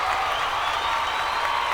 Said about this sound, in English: I'm only clapping to be petty